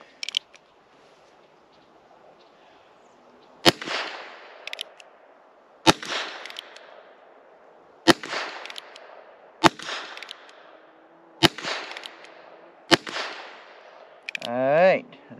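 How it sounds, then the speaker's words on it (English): Six sharp reports ring out from a Heritage Rough Rider revolver firing CCI Standard Velocity rounds outdoors, spaced one to two seconds apart, each a crisp crack with a short tail, followed by a brief clatter at the end. "this will be my first time shooting CCI Standard Velocity"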